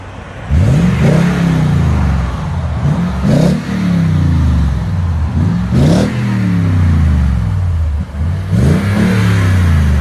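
A Toyota Tundra 5.7L V8 with a TRD exhaust and the muffler cut off, heard nearby through about four hard rev-ups, each a deep swelling roar that drops back to a low idle rumble. No one speaks.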